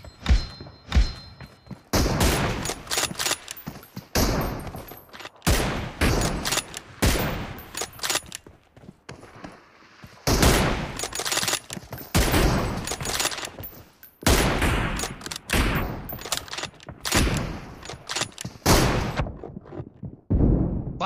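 Rapid bursts of gunfire in a BGMI team deathmatch, with loud repeated volleys and thudding shots coming in clusters separated by brief quiet gaps, close and punchy throughout.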